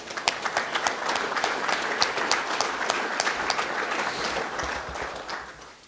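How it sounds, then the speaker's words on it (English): A round of applause from a breakfast audience at a Tombstone gold rush mining event, steady and fairly full for several seconds before tapering slightly. "If we could just give them a big round of applause."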